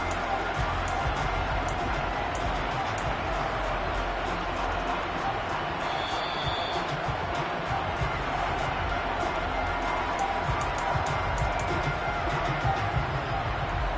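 Home crowd at a football game, a dense, steady roar of many voices filling the stadium, with a commentator talking over it throughout.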